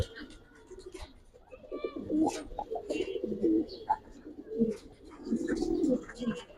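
Giribaz and coloured pigeons in a loft coo softly and intermittently, close by, while people talk over them.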